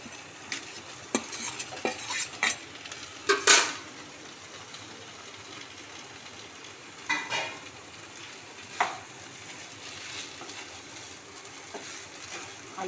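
Potatoes and spice masala stirred and sautéed in a pan, with occasional spoon scrapes and clinks against the metal over a faint, low sizzle, close and quiet, without speech.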